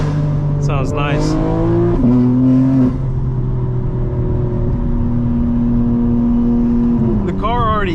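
A 2025 BMW M4 Competition xDrive engine revs and drones loudly at sustained high pitch, holding second gear with brief pitch swings near the start and end.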